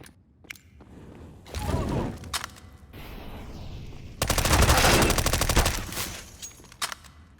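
Gunfire in the video game Counter-Strike: Global Offensive, with a short automatic burst, a lone shot, then a longer loud rapid-fire spray and a few trailing single shots, close and prominent with no talking.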